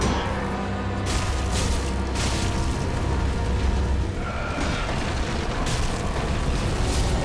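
Acid bomb eggs from an enemy in the video game Dark Souls burst in a string of loud, rumbling booms and blasts that run continuously over a dense, noisy game soundscape.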